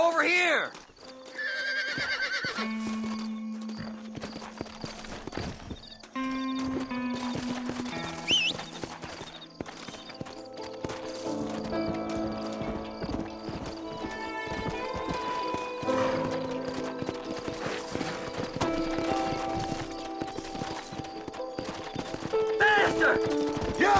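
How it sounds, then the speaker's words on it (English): Horses neighing and hooves clip-clopping in the Red Dead Redemption 2 video game, repeated whinnies over steady hoofbeats, mixed with gunfire, background music and voices talking. "Horses are over here!"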